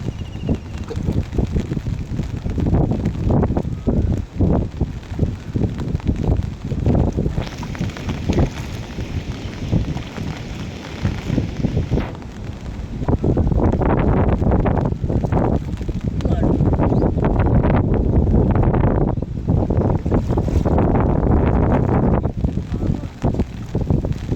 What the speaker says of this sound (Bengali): এখনও বৃষ্টিও নামতে আসছে বাতাস আছে প্রচুর